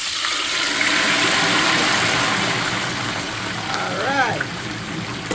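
A whole turkey sinks into hot oil in a deep fryer, setting off a loud, steady broadband sizzle and roiling bubble that persists throughout, with a brief voice speaking near the end.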